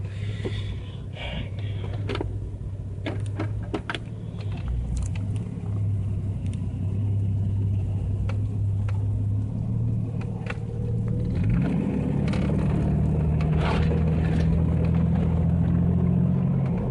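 A 1989 Jeep Cherokee with a cracked radiator runs on a test drive, its engine a steady low rumble heard from inside, rising in pitch as it accelerates partway through, with occasional small clicks and knocks.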